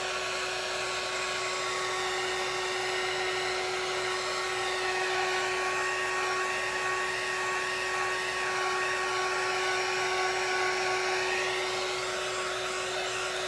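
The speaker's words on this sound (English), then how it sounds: "this little dryer came from Amazon. This one's a Mofa, M-O-F-A." A small Mofa handheld dryer blows on wet craft paint on a Dollar Tree brownie pan, giving a steady, even whirring hum with a high tonal whine that stays constant from start to finish.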